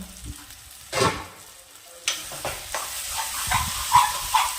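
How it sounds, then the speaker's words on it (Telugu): Food frying in a pan gives a crackling sizzle with bursts of spatter and stirring knocks, rising after a quiet start and staying close and fairly loud. "మరి కొద్దిసేపు దీన్ని వేగనిద్దాం."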